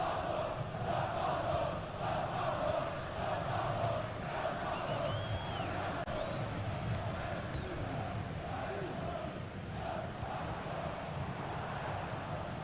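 A large football stadium crowd in a cyber football video game roars continuously at a distance, a dense swelling wash of cheering and chanting that holds steady throughout with no clear talk over it.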